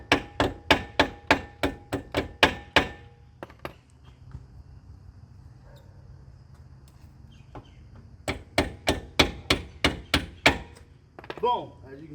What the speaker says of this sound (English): Gonna tap on the back of it with a hammer.